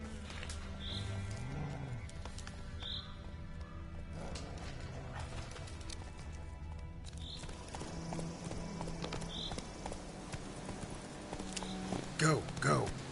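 Roach, Geralt's horse in the Witcher video game, walks with a steady clip-clop of hooves over continuous in-game ambience, while voices come and go in the background.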